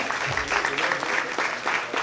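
A crowd at a fashion show applauds, a dense wash of clapping filling the space, with an announcer's voice heard over it calling out contestants.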